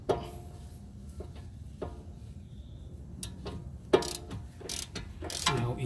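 Bolt being loosened and turned out of the steering knuckle on a BMW E46 M3, with a loose thread: a scattered series of sharp metallic clicks and clanks from tools and parts, close and fairly quiet, with no talking.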